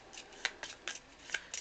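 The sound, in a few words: shuffling a deck of game cards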